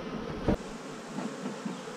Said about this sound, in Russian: Пчела злая до ужаса.